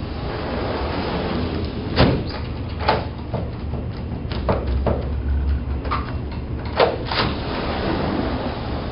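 A Neuma gliding patio door is worked shut and locked, with a series of sharp clicks, knocks and latch clunks spaced over a low, steady background hum.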